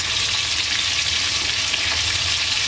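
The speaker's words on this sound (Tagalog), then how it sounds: "Tapos habang ako, nagpiprito na ng tilapia." Tilapia fries in a pan with loud, continuous crackling and sizzling oil, steady throughout at close range, with no one speaking.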